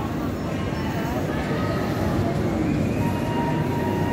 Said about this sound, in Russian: поехал поезд